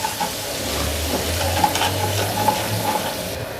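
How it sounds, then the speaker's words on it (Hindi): Garlic ginger paste fries in oil in a karahi with cumin seeds, a steady close hiss and sizzle with faint stirring scrapes and small pops, no voices. "थोड़ा सा इसको भून लेंगे।"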